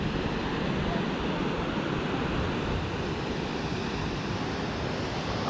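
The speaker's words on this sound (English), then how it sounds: "See the waves breaking in various directions here." Ocean waves break and wash steadily at Playa Zapotillal, Costa Rica, in a continuous roar of surf, with wind rumbling across the microphone throughout.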